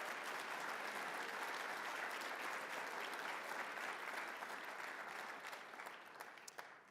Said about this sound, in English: Can you give them a big round of applause